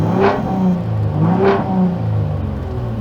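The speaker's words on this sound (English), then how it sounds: "So again, that's interior revving" Interior cabin sound of a 2021 Ford F-150 Raptor engine revving: two strong rev swells about a second apart rise and fall over a steady low rumble, close and loud with no talk.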